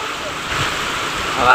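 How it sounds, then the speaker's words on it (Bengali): Heavy rain falls with stormy wind, a dense steady roar of water and gusts held close, with a few faint voices sounding briefly over it. "অনেক বৃষ্টি হচ্ছে অনেকটা জোরে বৃষ্টির সাথে সাথে ঝড় দিচ্ছে"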